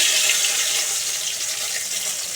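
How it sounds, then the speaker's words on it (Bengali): Cumin seeds and bay leaf are dropped into hot oil for tempering while a jackfruit curry is cooked at home, giving a close, continuous hissing sizzle with no pauses and no voices. "ফোড়ন দিলাম"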